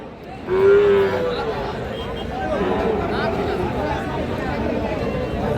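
A Sahiwal breed bull calf gives a single clear moo at the Raniganj cattle market, set against steady crowd chatter and people talking nearby.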